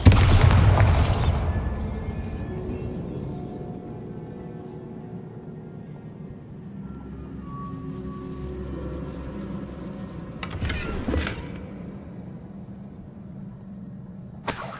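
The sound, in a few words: Bombarda blasting spell explosion in video game Hogwarts Legacy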